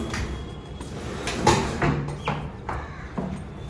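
Drawers in a modular kitchen of a furnished two-bedroom apartment being pulled open and pushed shut, a series of soft sliding thumps and knocks at moderate loudness in a quiet room, with no talking.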